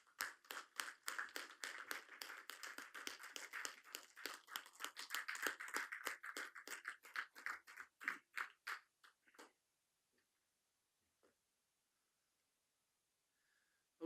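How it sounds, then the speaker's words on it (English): Round of applause at a city commission meeting, a modest group clapping in quick irregular bursts that gradually thin to a few isolated claps before stopping. "give you guys a round of applause"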